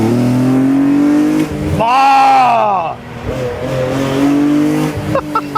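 A BMW E46 M3 racing engine revs up hard and accelerates, its rising howl peaking and then falling away, heard close and loud between stretches of steady engine drone, with a man exclaiming briefly.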